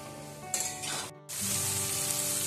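Garlic frying in a pan with a little water added, a loud steady hiss and sizzle that flares, cuts out briefly, then resumes strongly and continuously, close up with no talking.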